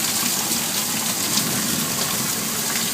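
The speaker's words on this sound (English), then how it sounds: "It's pouring." Heavy rain pours down in San Antonio, Texas, a dense, steady broadband wash of water that runs unbroken throughout, with no voices.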